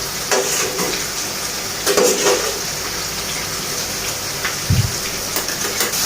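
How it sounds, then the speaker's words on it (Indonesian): Green chilies fry briefly in hot oil for a home-cooked tongkol and tofu dish, giving a steady hissing sizzle with a few louder crackles and no talking. "Cabenya ini aku goreng sebentar aja, lebih kurang 1-2 menit aja ya"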